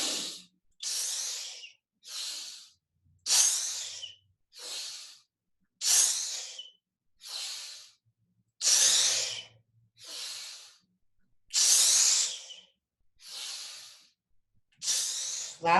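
Forceful exhalations during guided group breathwork, a dozen sharp, breathy rushes of air in a steady rhythm with short silent gaps between, close and fairly loud.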